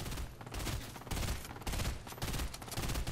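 Dense bursts of rapid gunfire in a Fortnite Reload Zero Builds squads match, shots fired at a tree, loud and continuous in clustered volleys across the moment.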